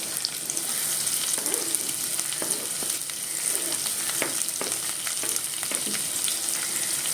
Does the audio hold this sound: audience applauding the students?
no